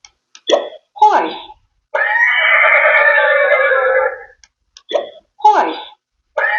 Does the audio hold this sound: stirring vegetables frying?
no